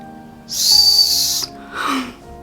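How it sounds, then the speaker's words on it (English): An old, roughly century-old whistle found while mudlarking, with its top missing, is blown in two loud, close, breathy shrill blasts, the first longer than the second. "No one will have heard the sound from this whistle in like 100 years"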